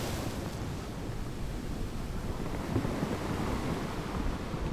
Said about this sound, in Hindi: तो आर्या ये है Arabian C, this is Arabian C